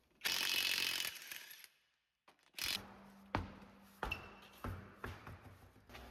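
A ratchet taking off the 22mm wheel nuts on a 2011-2017 Honda Odyssey during front brake work: a rapid, close burst of clicking, then a pause, then several separate clanks and shorter ratchet strokes.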